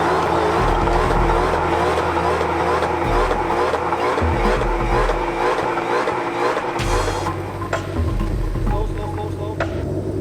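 A 2020 Ford Mustang Shelby GT500 launches hard at a drag strip, its engine roaring loud and close with revving, gear changes and a brief tire squeal, continuous throughout.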